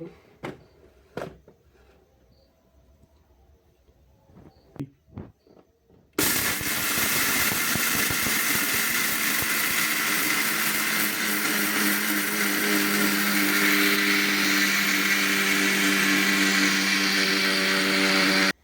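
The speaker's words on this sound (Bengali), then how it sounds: "আপনারা দেখতেই পাচ্ছেন আমি ছোলা বাদামগুলো গুঁড়ো করতে দিচ্ছি।" An electric grinder grinding chickpeas and peanuts into powder: a few faint clicks, then the motor roars on abruptly and runs loud and continuous, steady and close, to the end.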